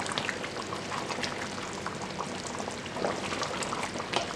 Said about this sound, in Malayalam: നമുക്കൊന്ന് ഇളക്കി മിക്സ് ചെയ്ത് നോക്കാം.